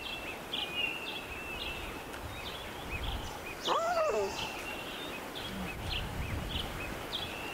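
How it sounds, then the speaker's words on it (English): A lion cub from the Nkuhuma pride calls forlornly for the departing lioness: one short, rising and falling wavering cry midway, fairly faint, over steady outdoor ambience with scattered bird chirps. "The cub's calling forlornly."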